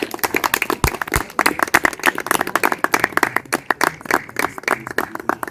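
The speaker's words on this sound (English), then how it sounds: "Let's give a round of applause for that." An audience applauds at a Youth Day career exhibition, sharp distinct claps from a modest crowd in an irregular, lively patter that holds for several seconds, fairly close and loud with no talking over it.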